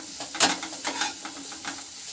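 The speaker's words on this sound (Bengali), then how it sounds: "কিছুক্ষণ ভাজা হয়ে গেলে এর মধ্যে পেঁয়াজ, টমেটো আর ক্যাপসিকামটা দিয়ে আবারও সব কিছুকে ভালো করে ভেজে নিতে হবে" Onion, tomato, capsicum and green chilli frying in a pan, a soft sizzle with a few quick stirring scrapes, one louder than the rest.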